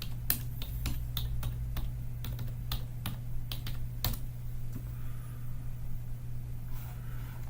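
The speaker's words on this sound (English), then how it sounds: "typing, spelling correctly is important" Rapid clicking keystrokes on a computer keyboard, irregular taps close by over a steady low hum, thinning out toward the end.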